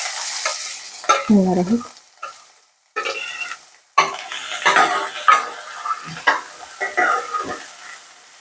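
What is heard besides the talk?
onion sautéing in a pan for millet upma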